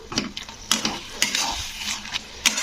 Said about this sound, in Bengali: তো দিয়ে এটাকে একটু একটু নাড়াচাড়া করতে হবে